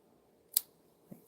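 Scissors trim paper at a craft table: one crisp snip, then a softer second snip a moment later, in a quiet room.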